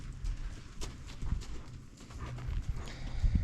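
A young filly walks on a hard surface, her hooves clip-clopping in a steady, moderately close rhythm over an outdoor background hum.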